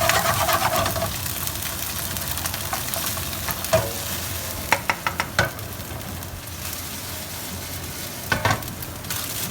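Chilli, ginger and garlic stir-fry in a hot pan, giving a steady close sizzle. Occasional sharp clicks and scrapes from stirring cut through now and then, with no voices.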